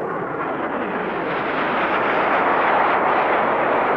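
A Multi-Role Combat Aircraft roars loud and broad at the Mildenhall air fete, a steady jet rush that swells slightly as it passes, with no other sounds over it.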